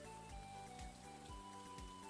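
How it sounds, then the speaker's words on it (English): Green rain falls in Stardew Valley, a soft, steady patter of game rain with a gentle musical tone running underneath and low thumps recurring at a regular pace, nobody speaking. "A green rain has descended upon the valley."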